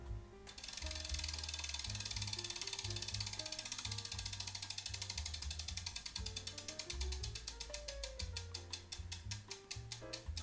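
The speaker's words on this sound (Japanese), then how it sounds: "そしてラチェット音も比較してみましょう。" A Mavic freehub on a carbon deep-rim road bike wheel clicks steadily as the wheel spins, a dense ratchet buzz that is fairly quiet and gradually slows into more distinct, spaced clicks, heard alone.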